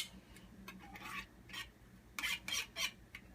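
A spoon scrapes thick coconut cream from the inside of an opened can, a few short rasping strokes, some quick and some longer, close and fairly quiet, with no talking.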